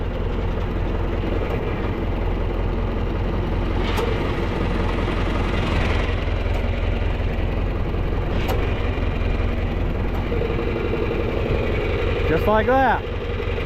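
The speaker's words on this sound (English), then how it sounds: "I will demonstrate the hydraulic remote and how it sends oil from the pump on the tractor" A tractor engine drones steadily at close range while its hydraulic remote is operated, with a brief spoken remark near the end.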